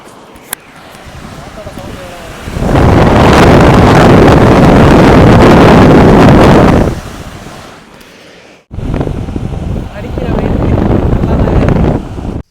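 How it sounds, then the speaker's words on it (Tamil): Steady, loud rush of blowing air from a restored air cooler's fan starts after a few seconds, cuts out briefly, then resumes strongly; broadband whooshing close to the microphone. "இப்போ நம்ம ஏர் கூலரில் உள்ள ஃபேனை மட்டும் போட்டு பார்ப்போம்"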